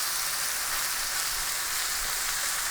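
Food browning in a pan for spaghetti sauce, a steady broadband sizzle that hisses evenly and loudly throughout with no break and no voices.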